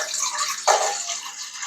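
Water pouring into a saucepan on a gas stove, a short steady splashing rush with a brief louder burst partway through, heard alone and close.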